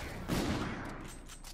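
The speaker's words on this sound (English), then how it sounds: "I'm gonna snipe this kid." A sniper rifle shot in Call of Duty: Infinite Warfare multiplayer, a single loud burst with a decaying tail, no talking.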